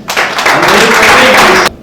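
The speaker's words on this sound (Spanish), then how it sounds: "Dale palmas." A church congregation claps together in a dense, loud burst of applause lasting under two seconds.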